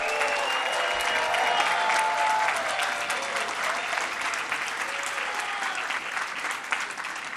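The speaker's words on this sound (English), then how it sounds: "Rebecca Cornick, let's give her a round of applause." A large crowd at a labor rally with the governor breaks into sustained applause for an honoree. The clapping is loud and full and runs for several seconds, with a few whistles and cheers mixed in.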